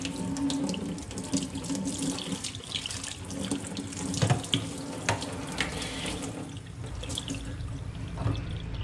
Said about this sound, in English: Just really want to rinse this out.